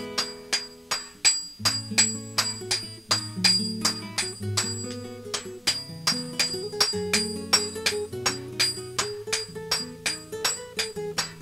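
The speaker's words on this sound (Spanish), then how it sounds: "A puro golpe estamos haciendo, a base de martillo y del marro" Red-hot metal is hammered at an artisan forge with a hammer and sledgehammer: sharp, ringing blows fall in a quick, regular rhythm, each strike leaving a brief metallic ring.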